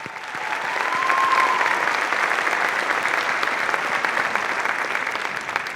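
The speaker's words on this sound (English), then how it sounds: "One more round of applause for them." Sustained applause from a concert audience after a memorial band concert piece, dense and steady clapping that swells in and holds at a fairly loud level throughout.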